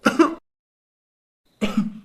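Two short, close coughs separated by a pause of over a second, with silence around them.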